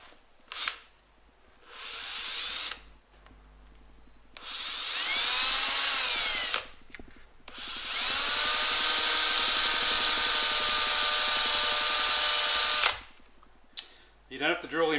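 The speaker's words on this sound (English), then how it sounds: "You don't have to drill in very far with the middle bit, with the stem." A power drill bores into a stainless steel KTM 1290 Adventure muffler in bursts: short whirs at first, then a long, loud, steady grinding run, each burst separated by quiet pauses.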